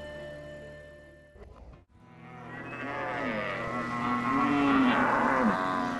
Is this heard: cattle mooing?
yes